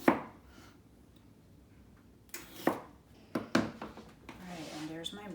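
Knife chopping fresh vegetables on a cutting board while preparing roasted vegetables, including red pepper, heard as a few sharp, separate close-up chops at an irregular pace, with quiet kitchen handling noise between the cuts.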